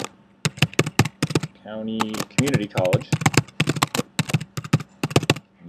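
Rapid clattering keystrokes on a computer keyboard come in quick bursts close to the microphone, while a person speaks briefly in the middle.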